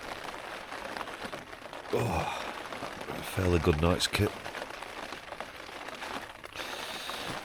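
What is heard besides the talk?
rain falling outside in the morning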